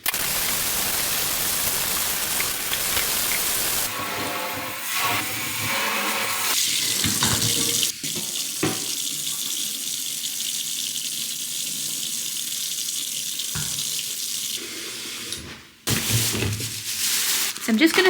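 A kitchen tap runs into the sink during cleaning, a steady close rushing hiss of water that shifts in tone as the flow hits different surfaces, with a short gap before resuming, and someone talking over it.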